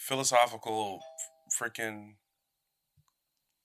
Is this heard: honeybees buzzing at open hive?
no